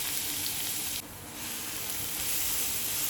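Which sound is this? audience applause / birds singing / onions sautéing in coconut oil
onions sautéing in coconut oil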